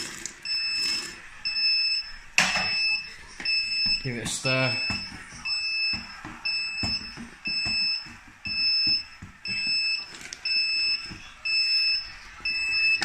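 Grainfather Connect brewing system 5-minute timer alarm, repeated loud high electronic beeps in regular bursts throughout, while a person talks and handles equipment nearby.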